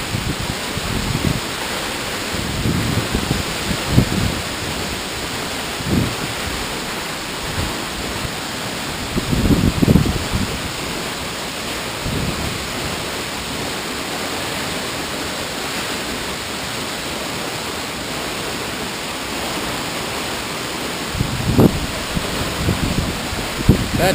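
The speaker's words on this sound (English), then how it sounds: "That waterfall just goes right underground, underneath me somewhere." Steady broadband rush of a waterfall falling into a sinkhole fills the whole clip, constant and enveloping, with a few brief low thumps and knocks scattered through it.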